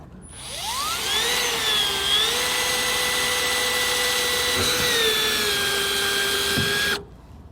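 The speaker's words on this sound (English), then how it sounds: "we'll start by making a pilot hole" A power drill bores a pilot hole for a Let's Go Aero D-ring tie-down anchor. Its whine quickly rises in pitch, then holds a steady, loud, close drone for about six seconds before cutting off abruptly.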